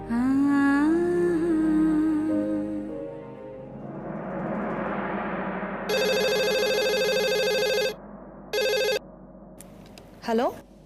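Indoors in a domestic TV-drama scene, a telephone rings while a call is placed: someone talks first, then bright electronic ring bursts sound twice, the second shorter, followed by a brief tone.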